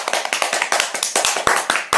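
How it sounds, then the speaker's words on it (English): Hands clap in a quick, steady run of sharp claps, several people applauding together close by for about two seconds with no talking. "You better clap right now."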